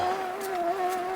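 A car engine held at high revs under heavy strain, a sustained droning whine with slight pitch wobble as the load shifts, loud and near with no voices.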